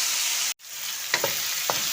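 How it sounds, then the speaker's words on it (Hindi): Tomatoes with green chilies frying in a pan for an okra dish give a steady hiss, with a brief dropout early on and a few soft clinks of stirring. No one speaks. "हमारे टमाटरों की भुनाई हो रही है"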